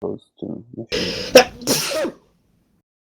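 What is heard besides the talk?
sneeze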